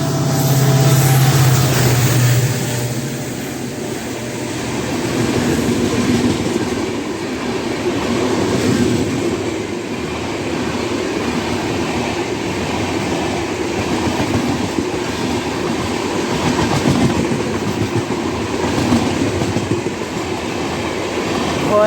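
DEMU train running on rails on an Indian route, a steady loud rumble with continuous wheel-on-track noise and faint clatter, sustained throughout.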